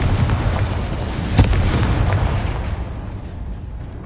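A Confringo blasting spell explodes in Hogwarts Legacy, a loud, dense boom with a sharp burst near the middle, rolling on and fading slowly.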